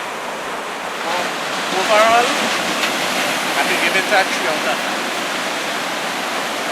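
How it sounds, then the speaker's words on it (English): Ocean waves roll onto a beach in Tobago where children boogie board, a steady broadband surf roar with wind under a person talking throughout. "There are nice waves for that."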